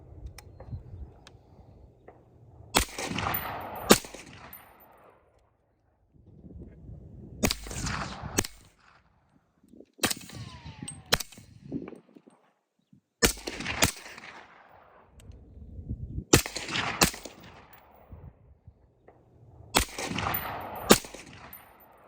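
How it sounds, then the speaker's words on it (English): Suppressed .308 rifle shots from a 16-inch barrel fitted with a Surefire suppressor, sharp muffled cracks fired in spaced pairs and singles with ringing tails, recorded nearby outdoors. ".308 16-inch barrel Surefire suppressed."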